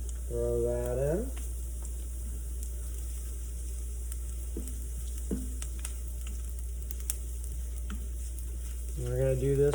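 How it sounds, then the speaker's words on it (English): Chopped garlic thrown into a hot pot sizzles with a steady, even frying hiss that continues throughout, while a voice speaks briefly at the start and end. "I'm going to take our garlic that we chopped up earlier, throw that in."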